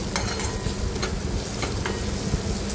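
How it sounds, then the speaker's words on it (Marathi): Garam masala and ghati masala spices being sautéed in hot oil for an ivy gourd (tondli) dry vegetable dish: a continuous close sizzle, with scattered light clicks from stirring throughout. "आता हे मसाले व्यवस्थित परतून घ्यायचे आपल्याला तेलामध्ये।"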